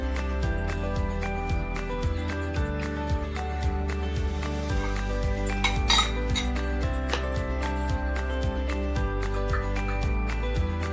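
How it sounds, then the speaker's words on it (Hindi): A spoon clinks steadily against a glass while stirring whipped Dalgona coffee cream into milk, bright rhythmic metallic taps repeating close up over a continuous low musical bed. "एक स्पून की मदद से जो कॉफ़ी का जो क्रीम बनाया हमने वो दूध के साथ थोड़ा थोड़ा करके मिलाइए"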